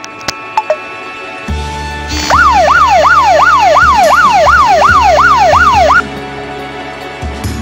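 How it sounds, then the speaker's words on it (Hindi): A phone anti-theft app's loud electronic wailing siren starts abruptly, sweeping up and down in rapid regular cycles for several seconds, then cuts off. "इस तरह ये साइरन बजेगा एंड आपका फोन भी बच जाएगा चोरी करने से"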